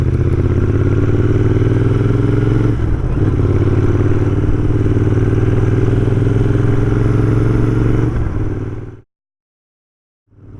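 A Royal Enfield Interceptor 650 cruising in top gear at about 70 mph near 4,500 rpm, a loud steady engine drone with wind rush that holds evenly before cutting off abruptly.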